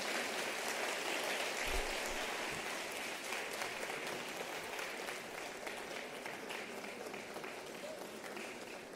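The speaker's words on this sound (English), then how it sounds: "You may give them a round of applause." An audience applauds steadily as dignitaries join the stage at a South African event with former President Thabo Mbeki, a dense, even wash of clapping lasting throughout with faint voices beneath.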